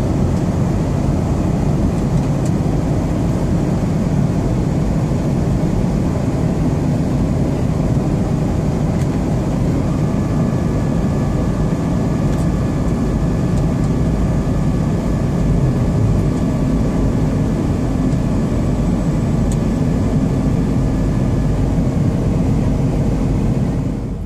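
Steady, loud airliner cabin roar during descent toward Soekarno-Hatta airport, Tangerang, on a Pontianak to Jakarta flight, a constant broadband engine and air rush with a faint tonal hum throughout and no talking.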